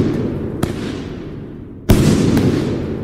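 Fireworks from the video game Pyroworks: a steady roar of crackling bursts with two sharp, loud booms, the second launching a denser, louder wave of crackle.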